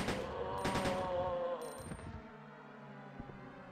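A quick burst of rapid gunfire in the PS1 game Resident Evil 1.5 that fades into a lingering electronic hum and scattered clicks.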